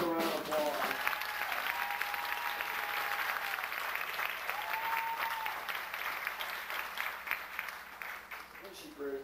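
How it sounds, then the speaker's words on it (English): Audience applause at a country music show at the Wilcox Opry in 1988, sustained clapping with scattered cheers and a voice over it, fading slightly toward the end. "Let's give her a round of applause."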